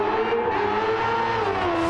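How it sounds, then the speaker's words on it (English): A race car engine in Gran Turismo 7 holds a steady high whine, its pitch sliding slightly lower toward the end, loud and continuous with no talking. "And the engine sounds amazing too."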